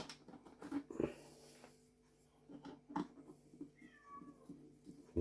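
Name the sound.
cat meowing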